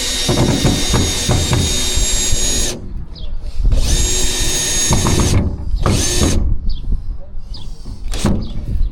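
A power drill bores through a paddle in several loud, close bursts separated by short pauses, with whirring spin-ups and ratcheting grind as it cuts.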